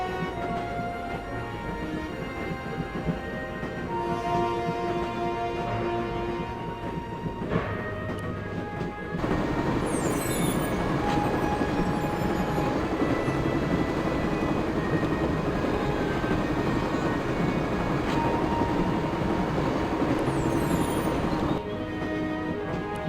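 Continuous rumbling train interior from the video game Broken Sword: The Shadow of the Templars, a steady loud low drone with a faint rhythmic clatter that grows fuller partway through and runs throughout.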